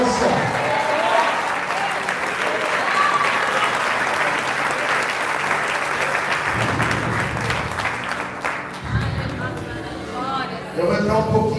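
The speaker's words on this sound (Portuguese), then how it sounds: "Aplauda o Senhor em concordância." A church congregation applauds in worship, broad sustained clapping filling the room, with voices and chatter rising through it toward the end.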